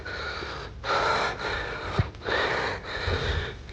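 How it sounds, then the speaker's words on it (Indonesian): Heavy panting from a hiker running uphill toward the Puncak Botak summit on Mount Ungaran, a series of close, loud rhythmic breaths in four or five bursts with brief pauses, no talking. "Lumayan ngos-ngosan sambil lari."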